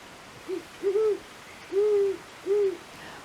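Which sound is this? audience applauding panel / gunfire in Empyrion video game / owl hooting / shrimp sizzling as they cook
owl hooting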